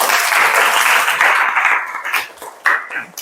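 A room of teachers in a coaching workshop applauds a group for its presentation, a dense burst of clapping that fades into scattered claps and a few voices by the end.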